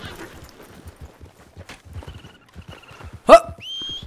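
Horse trotting in the open-world western game Red Dead Redemption 2, with a steady run of soft hoofbeats close by, a sharp louder burst near the end and a brief whistling tone after it.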